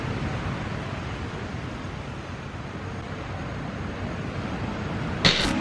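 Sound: sea waves on the shore at a beach campsite

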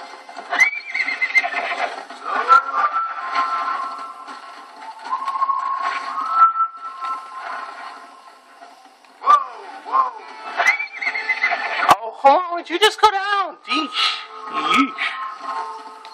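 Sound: horse neighing in video game Red Dead Redemption

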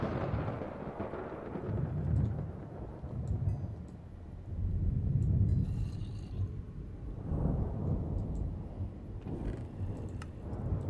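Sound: thunder in Minecraft modpack MC Eternal, from a video game

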